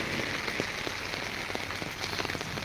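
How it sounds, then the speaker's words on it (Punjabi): Steady morning rain falls on the ground and road, a dense, even patter of drops that is close and continuous throughout, with no talking. "ਇੱਕ ਘੰਟਾ ਮੀਂਹ ਪਿਆ ਜੀ"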